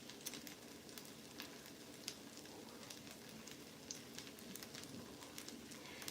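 Pork belly sticky rice cake fries in oil under a mesh cover, giving a faint, continuous sizzle with scattered small crackles and pops, no talking.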